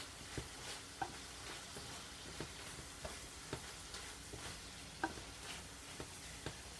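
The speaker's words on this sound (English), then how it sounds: "Stir that around a little bit." Squash, chicken breast and spices being stirred in a pan give a soft, continuous sizzle, with faint utensil taps and scrapes recurring about once a second.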